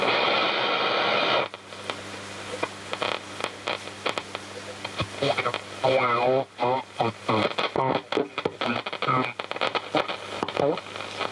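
A 1968 Sharp FV 1700 DX radio receiver tuned to a station, hissing static giving way to a warbling, distorted voice transmission with crackles and tuning noise, loud and close.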